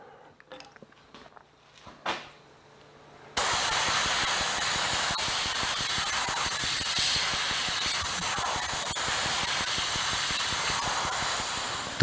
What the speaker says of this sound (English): I'm going to spray the cloth with red oxide.